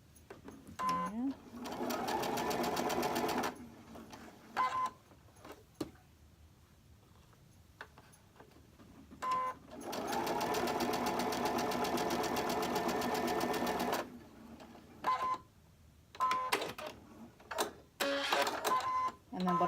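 A sewing machine whirs in two long bursts of rapid stitching, separated by quiet pauses with small clicks and handling sounds.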